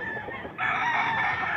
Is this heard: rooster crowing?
yes